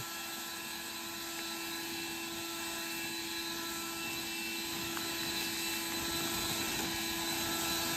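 An Osuka OCLB446-P1 leaf blower at speed setting five roars steadily with a constant whine and dense airy rush, blowing through grass, close and loud, no talking.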